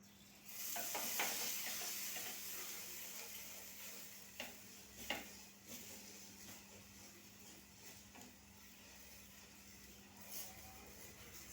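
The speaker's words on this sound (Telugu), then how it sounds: "ఇంకొన్ని పెసరట్టు వేస్తున్నానండి అసలు ఆయిల్ యూజ్ చేయట్లేదండి" Oil-free pesarattu, a green gram dosa batter, sizzles softly on a hot pan, a faint steady crackle with a few light taps of a utensil scattered through, no talking.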